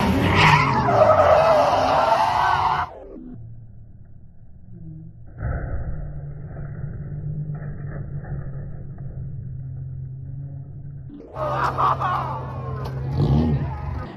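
A Toyota AE86 drifts at a drift party, its tires skidding in loud, harsh squeals at the start and end, with a steadier engine drone between them, heard from close by with faint voices in the background.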